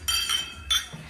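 Glasses clink together in a toast at a family Christmas lunch, two bright ringing clinks about half a second apart, close and loud with no talking.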